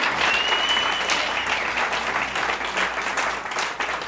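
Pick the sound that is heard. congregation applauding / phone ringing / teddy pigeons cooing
congregation applauding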